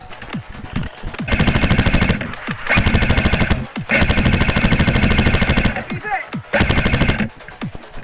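An A&K M60 mk43 airsoft machine gun fires on an outdoor airsoft field in several sustained, rapid bursts separated by short pauses, loud and close, with sharper single clicks between bursts.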